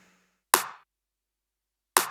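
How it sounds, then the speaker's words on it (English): Two bright, gritty, clipped electronic clap samples from a rave pack ring out well apart, each a sharp burst with a brief noisy decay, after a faint fading tone at the start. "Then I have my main clap."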